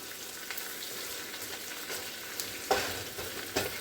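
Chopped cabbage cooking down in a pan on the stove, giving a faint, steady sizzle with a few brief scraping clicks of stirring, heard alone without talk.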